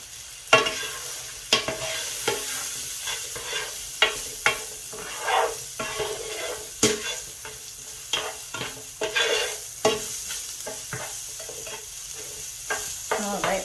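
Small batch of broccoli sizzling and frying in a large skillet, stirred with repeated scraping strokes that come through as sharp bursts over a steady hiss, close and moderately loud, with no talking.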